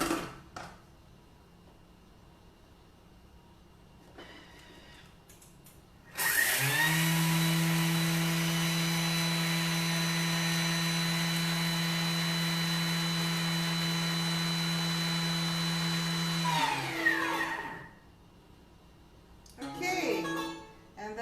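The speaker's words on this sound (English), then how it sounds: "We're going to pulverize our coarse sugar into icing sugar." A Thermomix pulverizing coarse sugar into icing sugar at top speed gives a loud, steady high-pitched whine that starts abruptly, holds for about ten seconds and then winds down, with brief talk before and after.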